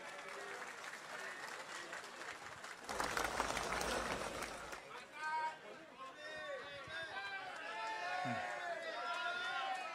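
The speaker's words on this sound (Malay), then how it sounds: "Berikan tepukan kepada mereka." A Malaysian political party audience gives a brief burst of applause for its election candidates, a couple of seconds of clapping in the middle, with someone speaking before it and talking continuing afterward.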